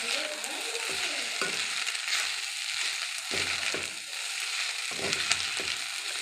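Pasta sautés in homemade ghee with a bright continuous sizzle, broken by several scraping stirs of a spoon across the pan, close up.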